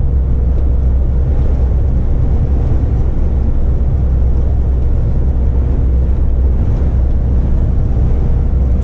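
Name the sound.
wind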